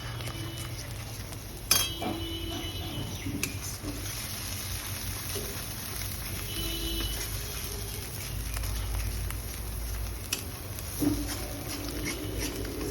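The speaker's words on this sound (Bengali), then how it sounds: "মশলাটা আমি এর মধ্যে দিয়ে এবার সেটাকে ভালো করে কষাতে হবে" Spice paste and onions for a Bengali-style chitol fish curry are stirred in a pan, giving scattered spatula clinks and scrapes over a soft, low sizzle.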